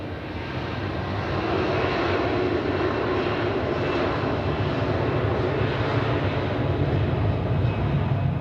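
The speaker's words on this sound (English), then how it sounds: "So, now it's time for the Thessaloniki flight." An airliner taxiing or taking off at Zurich airport, a loud continuous engine roar that holds steady and strong throughout, heard from a spotting position without talk.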